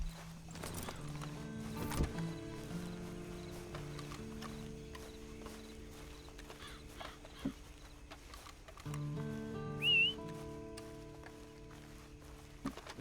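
A horse in Red Dead Redemption 2 clip-clops steadily, with hooves thudding over layered in-game music and ambience, and a brief neigh or whinny rises near the middle; no one speaks.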